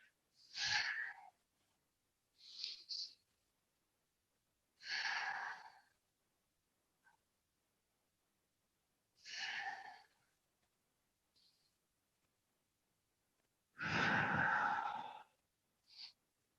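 Slow, deep yoga breaths with long exhales while folding forward, several separate airy breaths spaced by silence, close and fairly soft, with no talking.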